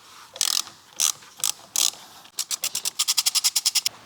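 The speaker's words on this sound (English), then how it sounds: "with the Torx T30, undo all the bolts on the cap." Ratchet with a Torx T30 bit working the cap bolts on a Porsche Cayenne 957 Diesel: a few slow separate clicking strokes, then a quick run of even rapid clicks, close and crisp.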